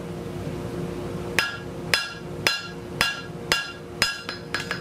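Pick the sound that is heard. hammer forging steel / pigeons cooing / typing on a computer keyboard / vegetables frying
hammer forging steel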